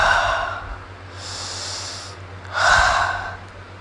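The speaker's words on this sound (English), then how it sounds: "relax and take a few deep breaths" A person takes slow, deep breaths before a devotion: two long, airy breaths close to the microphone, separated by a quiet pause, with no talking.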